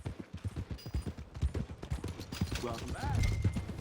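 Steady clip-clop of a horse's hooves in Red Dead Redemption 2, a close, even walking rhythm heard under a voice, with a brief mechanical whir near the end.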